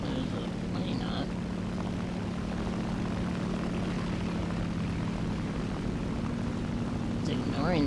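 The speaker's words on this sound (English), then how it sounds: "There's a plane up." Propeller warplane droning steadily overhead in the War Thunder combat game, a continuous engine hum running through the whole stretch, with game effects around it.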